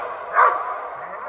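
A police dog in training gives a single short yelping bark over a steady background hiss.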